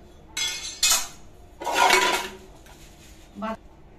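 Fish being cut up for frying in a home kitchen, a few separate bursts of scraping and clattering metal against a surface: two quick ones, a longer rough scrape, then a short knock, each fairly close between quiet gaps.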